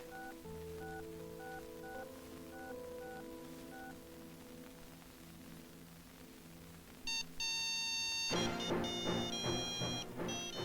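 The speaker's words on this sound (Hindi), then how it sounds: "केदार का मोबाइल तो यहीं घर में बज रहा है।" A mobile phone rings inside a house, repeating a faint electronic melody of short beeping tones, followed by a louder, brighter burst of ringtone notes near the end.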